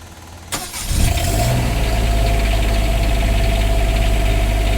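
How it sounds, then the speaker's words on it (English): A diesel engine on a 2021 DX3 37TS cranks briefly after intake heater warm-up, catches with a sharp burst and settles into a loud, steady idle, close to the microphone with no talking. "It will not crank the engine over until the intake temperature is correct."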